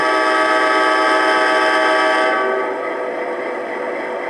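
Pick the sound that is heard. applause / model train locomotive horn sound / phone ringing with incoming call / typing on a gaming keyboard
model train locomotive horn sound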